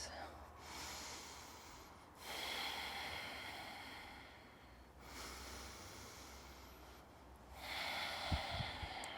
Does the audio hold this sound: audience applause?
no